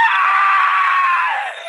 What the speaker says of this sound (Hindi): इतने में बहुत जोर से चीखने की आवाज आती है।